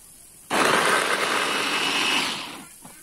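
A kitchen blender grinds a spice paste with water for fried liver-and-gizzard sambal, starting abruptly with a loud steady whirring roar that holds for about two seconds before winding down into quiet.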